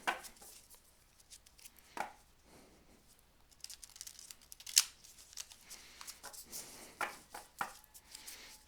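Cards are shuffled in quick, uneven bursts of riffling and soft slaps, close and fairly quiet, with pauses between attempts.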